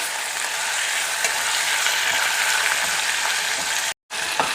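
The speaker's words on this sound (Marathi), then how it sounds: "त्यातच बारीक चिरलेली कोथिंबीर घालते थोडी आणि टोमॅटो मी 1 मिनिटभर परतून घेणार आहे." Finely chopped tomato and coriander sauté in hot oil in a pan, a steady close broadband sizzle with faint stirring scrapes, briefly cut to silence near the end.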